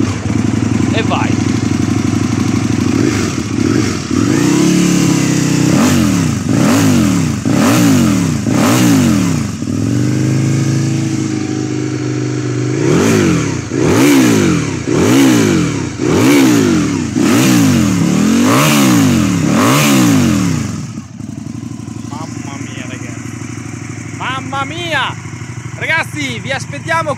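An Aprilia Tuono 1000 R Limited motorcycle revs hard and close, its engine blipped up and down in a rapid series of sharp roaring bursts before settling to a rumbling idle.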